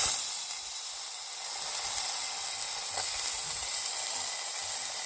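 Cut vegetables, carrot and potato, sizzle and fry in a little oil in a home kitchen, giving a steady close hiss with soft crackle throughout and no speech.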